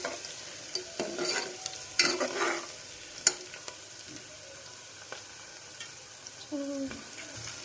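Cucumber curry fries in a pan while a utensil stirs it, giving soft intermittent scrapes and occasional clicks over a quiet, continuous sizzle.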